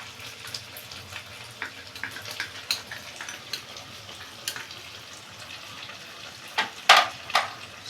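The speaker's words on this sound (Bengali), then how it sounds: "আগে একটু ভেজে নিই।" Chicken chilli sizzles in a pan with tomato sauce, a soft steady frying hiss broken by scattered clinks of stirring and a few sharper spatters near the end.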